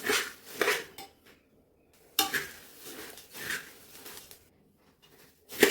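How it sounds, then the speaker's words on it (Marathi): Puffed rice being stirred and roasted in a pan over a gas flame for spiced bhadang, giving repeated scraping strokes of a spoon against the metal in bursts with short pauses between. "तर व्यवस्थित हे 1-2 मिनटं गॅसवर परतून घेऊ."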